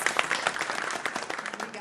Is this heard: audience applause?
yes